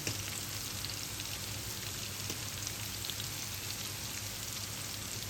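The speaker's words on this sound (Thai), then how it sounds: "ใส่เกี๊ยวลงไปค่ะ ทอดไฟอ่อน" Wontons deep-fry gently in oil over low heat, giving a faint, even crackling hiss that holds steady from start to finish with no talk.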